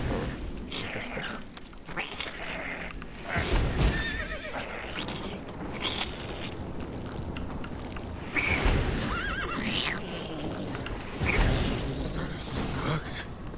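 A horse in The Witcher 3 video game whinnies several times, with hoof clip-clops and creaking in a busy game soundscape, and a voice speaks faintly at moments.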